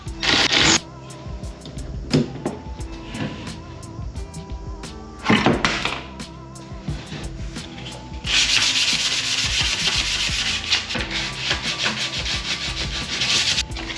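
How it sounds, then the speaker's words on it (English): Hand sanding of Mitsubishi Evo 8 intercooler piping ahead of spray painting: close, rhythmic back-and-forth rubbing strokes with a few knocks, turning to a continuous, louder scratchy sanding in the second half. "So I do want to try and sand this down a little bit."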